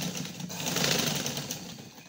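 A sewing machine runs steadily as it stitches cloth for a poncha design, a continuous close mechanical whir with a faint rhythmic chatter and no talking.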